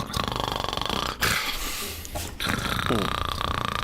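A voice imitating snoring from a basement, performed as part of a tabletop role-play session: a close, rasping, guttural rhythmic snore with snorting breaths and a short break partway through, over constant background noise.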